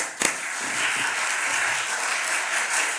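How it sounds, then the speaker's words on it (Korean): A church youth retreat congregation applauds to welcome a guest pastor, with a sharp clap at the start followed by steady, sustained clapping from a crowd. "힘찬 박수로 우리 맞이하도록"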